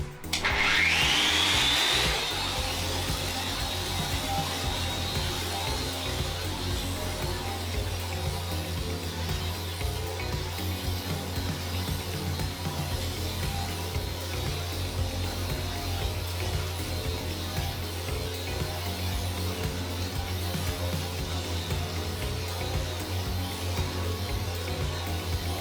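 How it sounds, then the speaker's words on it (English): Makita random orbit sander running with 60 grit sandpaper, a sustained, even whirring rasp that starts with a brief rising whine and then holds steady and fairly loud throughout, no talking. "Now we're going to try the Makita. So we're going to try it on the random orbit mode first"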